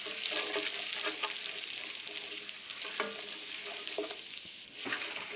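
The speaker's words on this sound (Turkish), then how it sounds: "Takribi bir yemek kaşığı kadar tel şehriyeyi de ekleyip sadece rengi dönene kadar kavuruyoruz." A spoonful of thin vermicelli is stir-fried in a pan for Turkish rice pilaf, giving a soft, steady sizzle broken by a few scraping stirs, with no talking.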